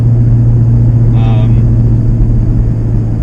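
A Ford Mustang Bullitt drives around a neighborhood block, heard from inside as a loud, steady low engine drone with road rumble and a brief higher tonal whine partway through.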